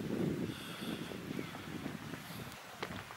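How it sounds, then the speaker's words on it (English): Steady rushing water of the River Bachawy in Wales, with wind buffeting the microphone, a continuous outdoor wash without distinct splashes. "Just the sound of water."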